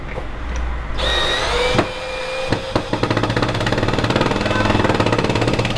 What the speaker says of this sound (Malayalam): സ്ക്രൂ ചെയ്യുന്ന സമയത്ത് നമ്മൾ ചെറിയ ഓപ്ഷനിൽ ഇടാൻ വേണ്ടി മാത്രം ശ്രമിക്കുക.